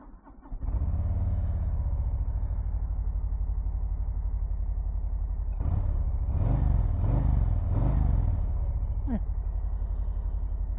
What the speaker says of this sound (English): It's a little quiet, but sounds like Harley.